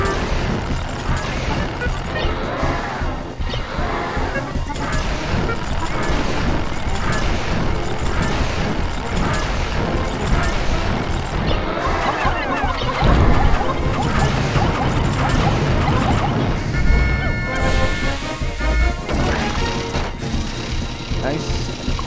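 Rapid gunfire in the Pikmin 2 video game, dense clattering bursts that continue steadily and loudly for a long stretch, mixed with game sound effects.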